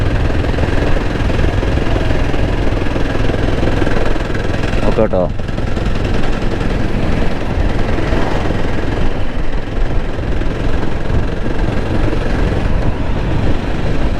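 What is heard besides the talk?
motorcycle engine knocking while climbing uphill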